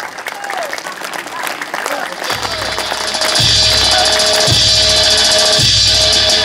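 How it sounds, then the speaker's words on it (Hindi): An audience at a two-day laughter yoga camp breaks into applause to welcome a guru. After a voice speaks over a microphone, the clapping swells in and stays loud and dense to the end. "सभी से विनंती है, जोरदार तालियां बजाएं।"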